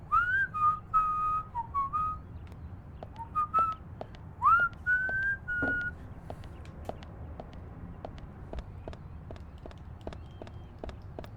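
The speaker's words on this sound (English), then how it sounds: "I'm a decent whistler." Someone whistles a short, wavering melody in several phrases, close and clear, followed by soft scattered clicks and taps with a low background hum.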